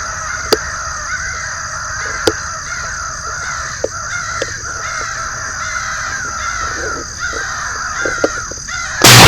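Crows cawing during a summer crow hunt among tall trees, a string of sharp caws spread across the clip, some close and loud, others farther off, over steady outdoor background noise.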